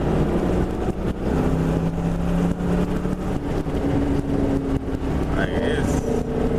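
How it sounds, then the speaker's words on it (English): A cammed 2000 Mustang GT's engine rumbles steadily with light throttle blips while driving, a continuous loud low drone with brief rises in pitch, someone talking over it. "He's just patting on the gas."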